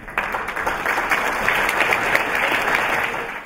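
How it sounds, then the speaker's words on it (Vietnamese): A steady wash of audience applause welcomes the pageant runners-up at the Miss Ao Dai Northern California event, dense and even from start to finish with no talk. "quý vị cho một tràng pháo tay để chào đón Á hậu Trần Vũ Phượng Hoàng và Á hậu Yvonne Hướng."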